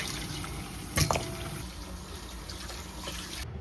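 Hot water running over beef brisket in a sink: a steady, close rush and splash of flowing water with one brief clatter, continuous throughout without speech.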